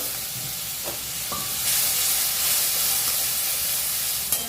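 Ground turmeric and coriander spices with a splash of water sizzle and steam in a pan while a koi fish dish is cooked. A loud, steady hiss is broken by a few sharp stirring scrapes, and no one speaks.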